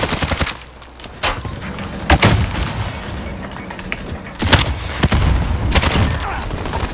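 Repeated bursts of gunfire and heavy sniper-style shots in a shooter video game, loud and sharp, spaced across several seconds with voices talking in between.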